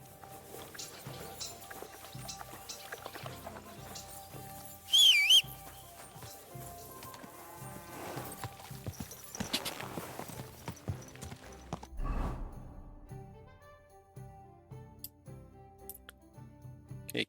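In Kingdom Come: Deliverance II, a sharp whistle calls a horse, then hooves clip-clop steadily closer on hard ground, with quiet game music and ambience underneath.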